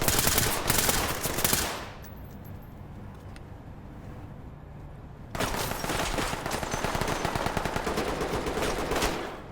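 Rapid automatic gunfire rattles in the tactical police shooter Ready or Not, loud dense bursts at the start, a quieter lull of muffled ambience, then sustained heavy firing resuming close by until the end.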